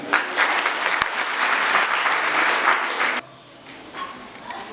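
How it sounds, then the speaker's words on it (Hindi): An audience claps loudly at a Christmas interfaith harmony gathering in a press club, a dense, even burst of applause that stops abruptly after about three seconds, leaving quiet room noise. "उनके लिए जोरदार तालियां।"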